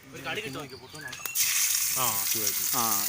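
Kaari fish drop into hot oil and burst into a loud hissing sizzle that continues steadily, with someone talking over it before and during the frying.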